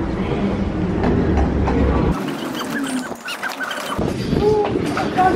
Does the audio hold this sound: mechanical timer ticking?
no